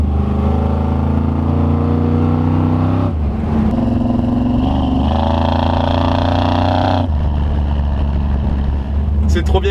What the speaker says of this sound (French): le moteur il est au ralenti, enfin il tourne au ralenti et on entend la succession des cylindres